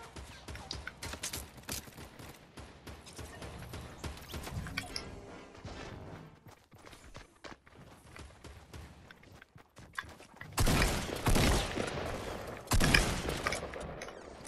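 Gunfire from a duo fighting in the video game Fortnite, scattered shots and a dense rattling mix, growing louder and heavier with bursts near the end, no voices.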